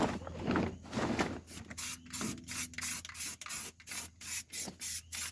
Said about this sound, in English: Still got a little paint left over, so we're just gonna hurry throw a quick coat over the axle here.